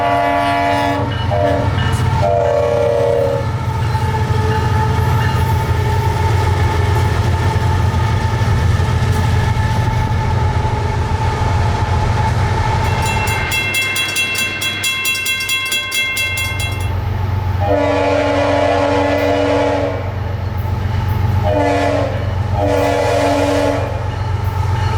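A CSX freight train hauling coal passes near a road crossing, its loud wheels rumbling and clattering continuously while the locomotive horn sounds repeatedly in long blasts.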